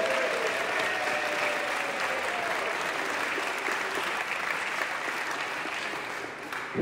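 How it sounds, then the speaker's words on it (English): Sustained applause from a meeting audience honouring councillors who stepped down, a dense, steady patter of many hands that holds at an even level throughout before breaking off at the end. "Let's give them a round of applause,"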